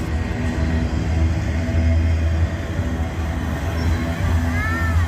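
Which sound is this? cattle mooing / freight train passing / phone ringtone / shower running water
freight train passing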